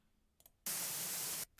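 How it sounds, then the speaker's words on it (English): White noise generated in Audacity plays as a loud, flat, steady hiss for under a second, starting and stopping abruptly between quiet stretches with faint clicks. "By default, it's very, very loud white noise."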